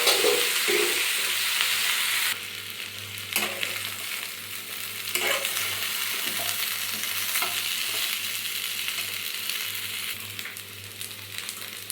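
Raw green banana sizzles as it fries with green chili paste in a hot pan, a steady crackling fry broken by occasional scraping stirs, close and continuous with no talking.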